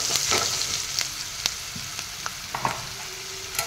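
Salt, chilli powder and turmeric powder frying together in hot oil, a steady soft sizzle with a few light clicks and scrapes of a spoon against the pan, close and moderately quiet.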